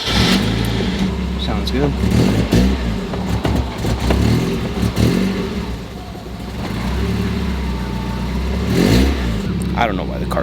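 A Mazda Miata engine starts and revs, loud and close, with repeated throttle blips over a steady idle rumble; a person speaks briefly over it.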